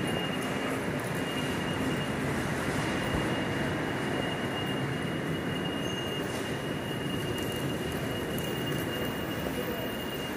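An Avanti West Coast Voyager train idles at a station platform, its diesel engines giving a loud, continuous rumbling drone with a faint high whine, steady throughout.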